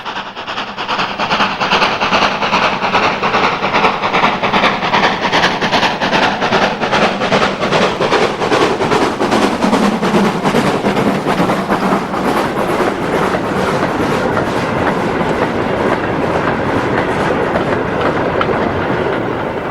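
Small British steam locomotive Stagshaw working on the Tanfield Railway, a loud, continuous rumble with rapid rhythmic clickety-clack of wagons rolling close by, steady throughout with no voices.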